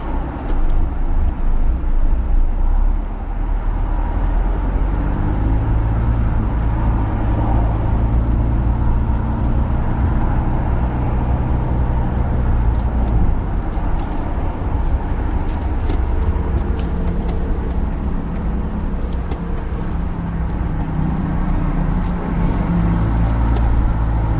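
A car driven by a learner during driving practice, turning through a bend, with a steady engine drone, road rumble and some light revving heard from inside the cabin.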